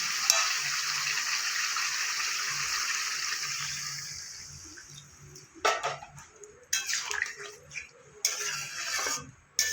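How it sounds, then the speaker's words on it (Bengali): Water is poured into a ridge gourd and potato curry in a pan, giving a rushing hiss that fades over several seconds, followed by a few sharp clatters and bursts of sizzling. "এবার আমি জল দিয়ে দেবো"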